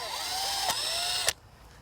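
A power drill whines steadily while driving screws up from below into the top U-rail of a deck railing, close and loud, its pitch sliding as the screw seats before cutting off abruptly.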